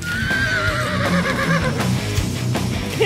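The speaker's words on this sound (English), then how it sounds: "horses are stupid assholes who laugh like idiots" A horse in The Witcher 3 video game gives a loud, close, drawn-out whinny that descends in pitch over a few seconds, with faint hoof clip-clop and game sound beneath.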